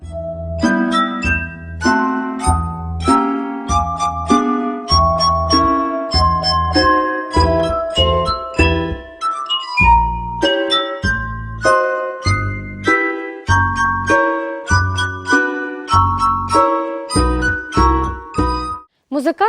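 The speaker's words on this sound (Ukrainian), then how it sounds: "нещодавно знайшли партитуру опери Руслан та Людмила, де автор зобразив завдяки скляній гармоніці Чорномора" A glass harmonica played by fingertip friction gives a steady run of clear, ringing glassy notes in a continuous melody, close and fairly loud throughout.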